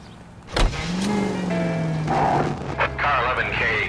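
A car drives in the video game L.A. Noire: an engine tone sweeps up and settles after a sharp thump, then revs and shifts under voices speaking over the motor.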